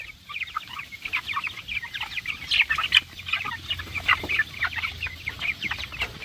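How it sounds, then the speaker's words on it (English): Twenty-five Rainbow Ranger broiler chickens inside a barn make soft, scattered clucks and chirps, a busy overlapping chatter at moderate distance with no talking. "We have 25 Rainbow Ranger broilers in there"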